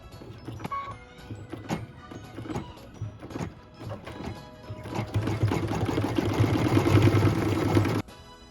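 An embroidery machine stitching small blue flowers, starting with scattered needle taps and building into a steady, rapid mechanical whirring chatter that stops abruptly near the end, close and clear with no talk.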